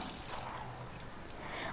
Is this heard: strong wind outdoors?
no